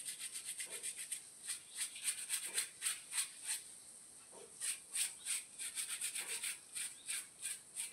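An old toothbrush scrubbing an ink-stained cloth, giving close, rhythmic rasping strokes, quick back-and-forth bursts with short pauses between them, fairly quiet and with no voices.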